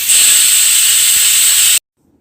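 A pressure cooker cooking dal lets out a loud, steady jet of steam that hisses up close for almost two seconds and then cuts off sharply. No voices.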